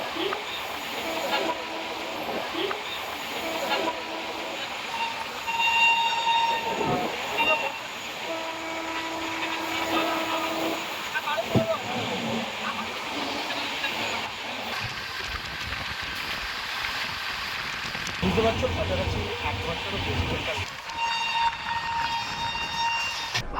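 A Jan Shatabdi Express runs out of Howrah, heard from on board as a steady low rumble and hiss with a brief horn note partway through.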